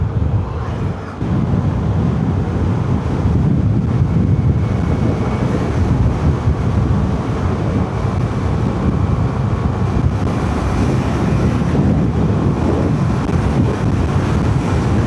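Strong, continuous wind buffeting on the microphone while riding a motorcycle on a ride around Jalajala, a loud steady roar filling the whole stretch with no speech.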